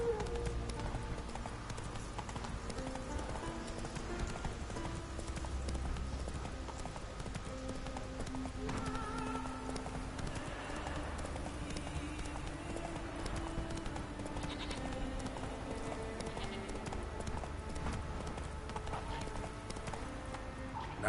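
Roach, a horse in the video game The Witcher 3, clip-clops steadily in a rhythmic hoofbeat with occasional whinnies, set against game music and ambience.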